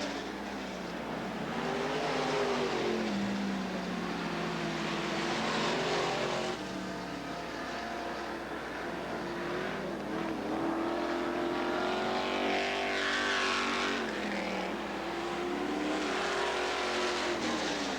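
Race cars battle for position around the dirt oval at Southern Oregon Speedway, a steady loud roar of several engines with rising and falling revs as they circle, continuous throughout without speech.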